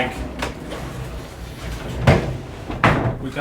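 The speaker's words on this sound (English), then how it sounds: "open the door, sliding door, no handle. You just move it to the side." A handleless sliding door in a converted shipping container motel room is pushed aside, with several short rumbling slides and knocks under quiet background noise.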